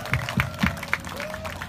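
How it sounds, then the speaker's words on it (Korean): A sparse festival crowd claps outdoors at a stage in Daegu, a few distinct claps rising over a faint background hum, brief and thin. "박수 한번 주세요."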